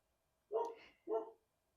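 A household dog barks twice, close by and fairly loud, two short full-throated woofs about half a second apart with silence around them.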